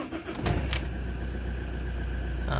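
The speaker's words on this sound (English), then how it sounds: "Okay, so now let's try to start this machine." An Alfa Romeo 156 engine cranks briefly and catches, then settles into a steady, close idle hum that runs to the end after an oil change.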